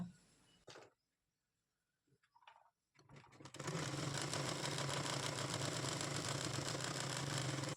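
A few faint taps and handling noises come first, then a sewing machine starts up and runs continuously, stitching fabric for an elastic casing with a close, steady whirring hum to the end.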